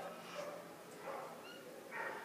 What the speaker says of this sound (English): There's even dogs barking.